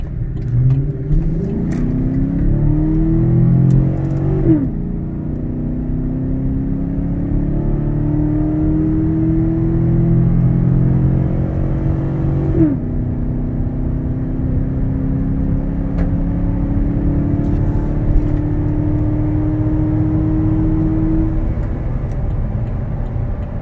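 A 2018 Chevrolet Silverado fitted with an aFe Momentum GT cold air intake accelerating onto a highway, engine note rising steadily through several gear shifts with a loud, continuous drone and rushing road noise.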